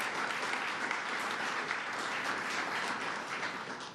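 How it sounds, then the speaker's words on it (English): Sustained applause from a large crowd at a political speech, steady and loud throughout with no voices standing out. "give Kevin Law a round of applause as well"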